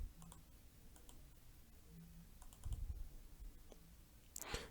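Computer keyboard keys tapped while working in an Excel spreadsheet: a scatter of light, quiet clicks at irregular intervals, close but faint over a low background hum.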